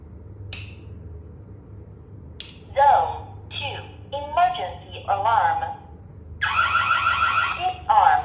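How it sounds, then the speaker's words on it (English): A HY-W20-S security alarm panel sounds a tamper alarm in loud, close electronic beeping bursts that start and stop, broken by short clicks and with a person talking between them. "the temper will be make alarming if the panel is arm disarm mode"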